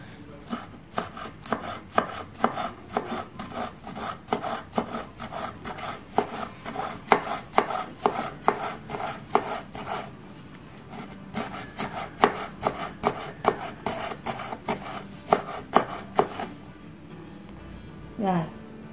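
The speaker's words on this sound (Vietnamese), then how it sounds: "xếp hành trắng này nè. Mình sẽ đập dập luôn ha." Scallion whites smashed and chopped on a cutting board as prep for marinating climbing perch, a fast string of sharp knocks for about sixteen seconds, near and loud, ending in brief handling sounds; a voice can be heard only faintly.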